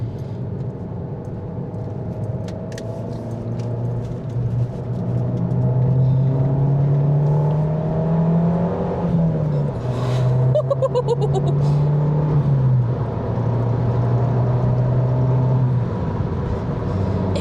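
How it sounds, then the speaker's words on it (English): An Abarth car engine revs hard and climbs in pitch through several gear pulls, a loud, close rumbling drone with brief dips between shifts. "Let's do a few more pulls in this car"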